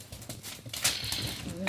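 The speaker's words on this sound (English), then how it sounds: "It's when you have 6 puppies charging up and down." Six English Springer Spaniel puppies, eight weeks old, charge back and forth across an indoor floor, their paws making a rapid, uneven patter with scrabbling and thumps, close by, mixed with a squeaky yelp near the end.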